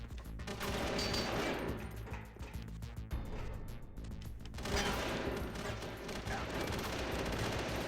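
Sustained firing-squad gunfire in Metal Gear Solid: The Twin Snakes on GameCube, a dense, loud fusillade of overlapping rifle and machine-gun shots that runs nearly unbroken throughout, with a fresh surge partway through.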